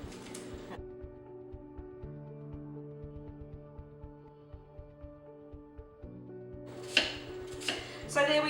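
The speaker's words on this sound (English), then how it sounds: "2 big onions that I've just peeled and basically just chopped up with my onion cutting tool" An onion cutting tool chops peeled onions in a kitchen, producing a rapid run of soft, even chopping taps at close range between louder clatters at the start and end.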